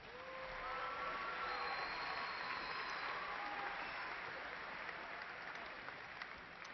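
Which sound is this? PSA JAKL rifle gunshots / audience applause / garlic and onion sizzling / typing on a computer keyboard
audience applause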